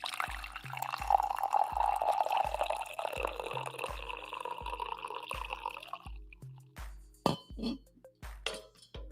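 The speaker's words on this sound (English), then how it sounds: "I am going to pour one more cup of coffee for this show" Coffee is poured into a cup in a steady gurgling stream for about six seconds, then the pour stops and a few sharp clinks and drips follow, close by and fairly quiet.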